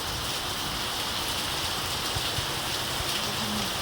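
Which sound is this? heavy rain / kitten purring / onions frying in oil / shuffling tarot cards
heavy rain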